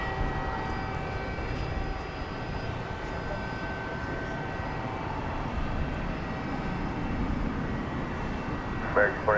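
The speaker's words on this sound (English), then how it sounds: "We're going to have a turn and burn here with this UPS 757." A UPS Boeing 757 jet takes off at night at DFW Airport, a steady, broad, rumbling roar that holds at a fairly loud level throughout, heard from some distance.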